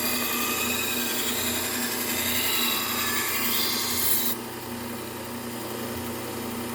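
Belt grinder running a fine Trizact A30 belt while a knife edge is sharpened, a steady close whirring hum with a hissing grind that shifts partway through.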